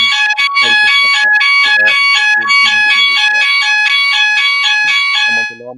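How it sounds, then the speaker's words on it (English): A loud electronic fire-style alarm goes off nearby, with rapid repeating high-pitched beeps in a steady pulsing pattern. A voice talks underneath before the alarm cuts out at the end. "Someone's alarm's going off."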